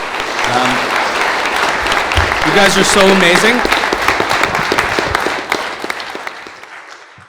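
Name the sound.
audience applause for Ashley and Emma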